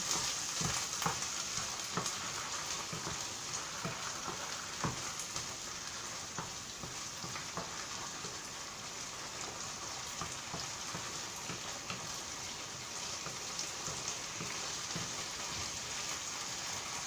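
Chopped onion and tomato frying in a pan, a close, dense, continuous sizzle with occasional faint scrapes and taps, steady throughout and with no talk.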